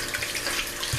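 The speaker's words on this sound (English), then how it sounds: "We're going to add a little salt to our chicken and add some water to it" Tap water runs onto raw chicken in a kitchen, a steady close stream with light splashing and a brief thump near the end, no voices heard.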